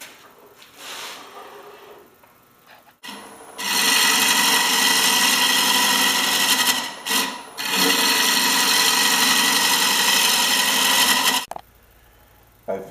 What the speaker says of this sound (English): I'm now going to move to cut the inside.